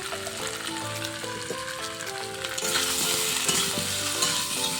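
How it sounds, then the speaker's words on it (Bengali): Snakehead fish with salt and turmeric frying in hot oil, a continuous close sizzle with stirring scrapes, growing louder and brighter partway through. "এবার একটু ভেজে নেব"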